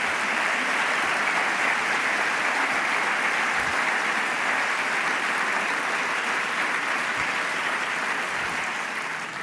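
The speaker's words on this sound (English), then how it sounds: "you could support me by giving a warm applause to the team that did a great job in preparing everything" A large conference audience at a tech event's opening stage in Munich gives a dense, steady wave of applause for the organizing team. It holds strong for about nine seconds before easing slightly at the end, with no talk over it.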